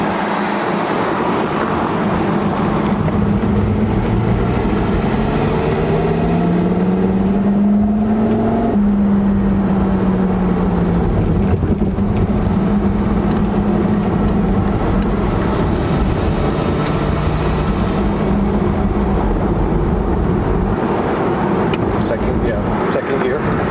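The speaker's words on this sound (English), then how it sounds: "I'd shift into second now. Second. Down to second." A Porsche Carrera GT engine driven with a manual gearbox, a loud, close, continuous drone whose pitch climbs, drops at a shift and climbs again, under steady cabin talk.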